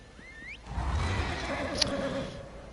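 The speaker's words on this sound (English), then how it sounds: "And my horse." A horse's neigh in the Elder Scrolls video game, a rising whinny followed by a low snort and a breathy rumble, close and clear with no talking.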